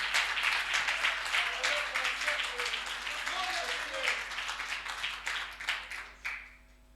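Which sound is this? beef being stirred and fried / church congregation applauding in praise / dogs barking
church congregation applauding in praise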